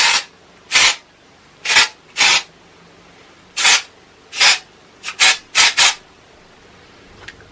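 Batiste dry shampoo in the Floral and Flirty blush scent is sprayed onto hair in about nine short, close hissing bursts, some spaced out and some in quick succession, with quiet gaps between them.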